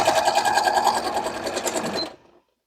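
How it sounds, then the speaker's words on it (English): A sewing machine stitches a side seam with a half-inch seam allowance, a close, rapid, even rattle of needle strokes running for about two seconds before stopping abruptly. "continue sewing using half an inch seam allowance"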